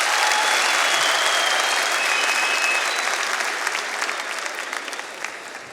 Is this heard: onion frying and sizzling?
no